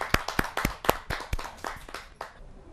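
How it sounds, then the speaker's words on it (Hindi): Scattered hand claps ring out from an audience welcoming a poet at a Hindi kavi sammelan, about a dozen sharp, uneven claps that thin out and stop near the end. "आइए जोरदार तालियों से उनका स्वागत"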